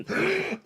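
A single short, rough cough or throat-clearing bursts out close by, lasting under a second.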